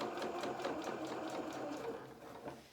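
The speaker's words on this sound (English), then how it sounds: "we're going to start to sew onto where those gather stitches are" A sewing machine runs steadily over doll jacket fabric along gathered stitches, a fast rhythmic whirr of needle strokes lasting a few seconds and slowing slightly near the end, close and clear.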